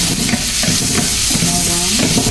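Garlic frying in a hot pan for sisig bangus, a loud, continuous sizzle with scraping stirs and a few soft clinks, close up and without talk.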